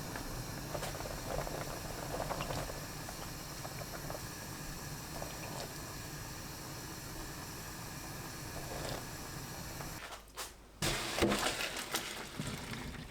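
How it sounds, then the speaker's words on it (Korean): A pot of water with noodles in it boils steadily with a continuous bubbling hiss, broken briefly near the end by a clatter before the boiling resumes. "물이 끓으면 국수 넣고 찬물을 부어가며 3번째 부르르 끓어오르고 나면 찬물에 헹굽니다"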